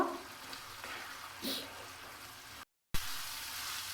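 Chicken being stir-fried in a pan over a low-to-medium gas flame for a potol chicken curry, giving a soft, steady sizzle with a few stirring scrapes, broken by a brief silent gap.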